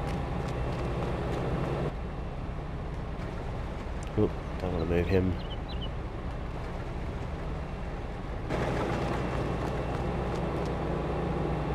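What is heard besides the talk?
farm vehicle engine running in video game Farming Simulator 22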